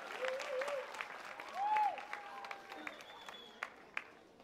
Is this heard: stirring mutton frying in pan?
no